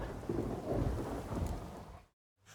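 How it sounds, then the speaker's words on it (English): A thunderstorm in The Witcher 3 rumbles with low thunder and steady rain for about two seconds, then cuts to brief silence before the rain returns faintly. "A storm, damn it."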